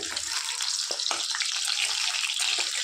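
Potatoes frying in hot oil for a chicken curry, giving a steady, dense hiss and sizzle with a few sharper crackles, close and continuous.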